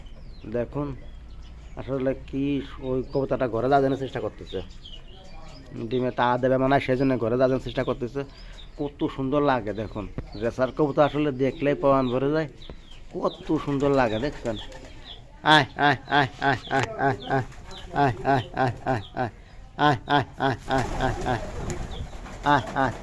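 A flock of racing pigeons feeding outdoors keeps up a steady murmur of cooing. A person talks over it for much of the time.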